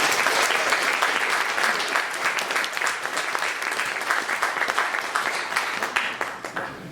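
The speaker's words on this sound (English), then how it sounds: "Round of applause." Sustained applause from an audience at a poetry night, steady and fairly loud throughout, with many overlapping claps and no talking.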